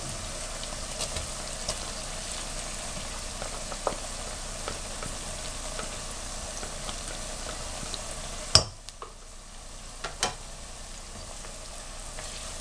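Onions and chicken frying gently in a pan, a faint, steady low sizzle with occasional small ticks and one louder clunk of cookware near the end.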